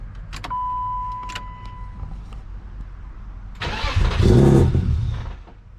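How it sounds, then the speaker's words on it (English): A BMW E36 drift car with a fault cranks with a whirring starter, then its engine catches and roars briefly before dying out, heard close and loud with no talking. "It's starting and then dying instantly."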